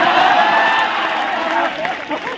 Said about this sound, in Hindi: ताली मारो ना गप्पा गप।